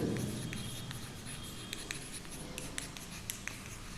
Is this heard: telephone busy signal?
no